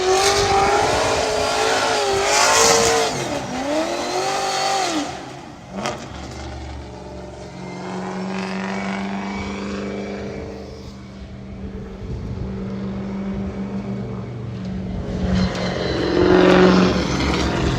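A drift car engine at full throttle on a practice run at the Cyprus Drift Championship, roaring and revving hard for a sustained stretch, sweeping up and down in pitch, loud and fairly close with little break.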